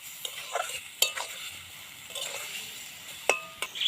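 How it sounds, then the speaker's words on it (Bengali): Grated raw mango stirred in a dry pan without oil, a soft scraping hiss with occasional sharp clinks of the utensil against the pan, fairly quiet and close. "যেহেতু তেল ছাড়াই তাই এইভাবে একটু নাড়িয়ে নেব দুই তিন মিনিট ভালোভাবে একটু আমটাকে নাড়িয়ে নেব"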